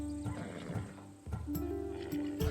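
A Thessalonian horse in the video game Assassin's Creed Odyssey neighs loudly and close up, with a rising whinny and snorts over soft clip-clop hoof sounds.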